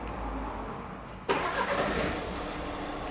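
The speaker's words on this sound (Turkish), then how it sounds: "Çalıştırın arabayı." A Renault Megane 4 car engine cranks and catches with a sudden burst, then settles into a steady idle, close by, with no talking.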